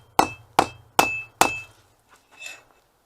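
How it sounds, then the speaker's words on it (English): A hammer strikes hot steel on an anvil while forging a draw knife, four sharp ringing blows in even succession, close and loud, followed by a couple of fainter taps. "Take this, get back here, hammer."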